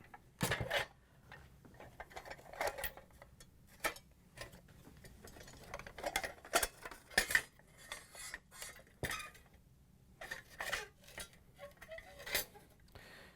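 Metal and plastic parts of a Frigidaire/Electrolux ice dispenser drum auger assembly clink and tick as it is taken apart, with a scatter of sharp, close clicks and small knocks spread irregularly throughout.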